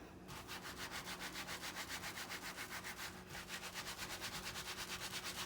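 Wet felted wool feather rubbed by hand under pressure, a steady rhythmic swishing friction repeating about every fifth of a second, close and soft with a brief pause midway, no talk.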